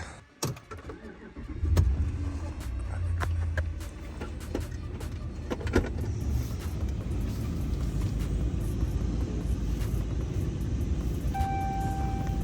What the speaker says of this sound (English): But let me move these cars around right quick, man.